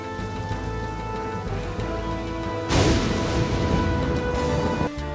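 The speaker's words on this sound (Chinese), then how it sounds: "大哥，不好了，下雨了，这下可怎么办？" Steady rain hisses down under a swelling dramatic music score, with a heavy rumbling surge partway through.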